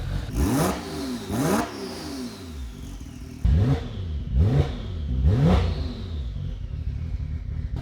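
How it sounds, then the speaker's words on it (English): A Porsche 911 Turbo engine revs hard five times, rising and falling in pitch with a turbo whistle on top, loud and close, with a steady idle between revs. "The exhaust note, the turbo whistle, this is why I built the Porsche."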